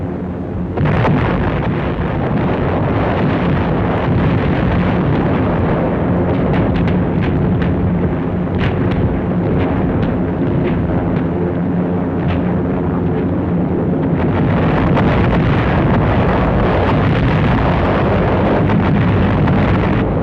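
Heavy aerial bombs from a massive bomber attack in Operation Cobra, Normandy, explode in a sustained, dense roar of overlapping blasts and rumbling, loud and continuous with no gaps, some sharper bursts standing out.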